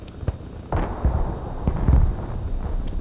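Artillery fire in the video game Broken Arrow, a few deep booms and thuds with rumbling tails, loud and irregularly spaced.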